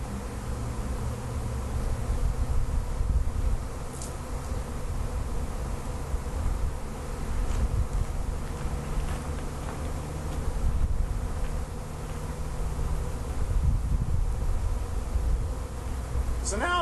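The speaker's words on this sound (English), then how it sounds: "all the bees are flying" Loud, continuous droning of a honeybee swarm flying during a swarm capture near a swarm box, a thick buzzing hum close by with small swells, and brief faint sounds from handling.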